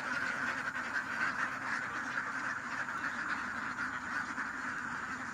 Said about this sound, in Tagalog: Daming itik mga kakagri.